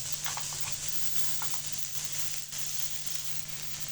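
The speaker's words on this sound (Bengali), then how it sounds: "কাঁচামরিচ পেঁয়াজটা ভেজে নিব তেলে।" Green chilies and onions frying in oil in a pan give off a steady, close sizzle with faint crackles throughout, and no one speaks.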